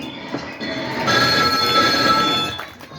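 A telephone rings with a bright, continuous electronic trill that swells and holds for a couple of seconds over a low background murmur.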